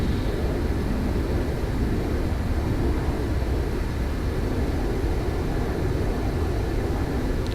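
An A-143 Buzzard jet takes off from a runway in the video game Arma 3, a dense, continuous low roar of engine and rushing air at steady loudness, with no voices.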